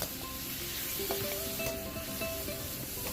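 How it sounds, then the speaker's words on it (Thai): Beef tossed in a hot wok with garlic and chili gives a steady, close sizzle with scattered crackles and faint utensil scrapes all the way through. "ใส่เนื้อลงไปเลยค่ะ"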